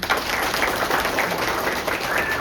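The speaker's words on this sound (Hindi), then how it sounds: "यीशु के लिए ताली बजाइए" Congregation clapping at a Holy Mass in a church, Prabhu Yesu Dham in Bilaspur, Haryana; steady, moderately loud applause from many hands filling the room throughout.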